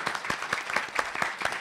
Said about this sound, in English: If we could give one more round of applause to our fantastic panel.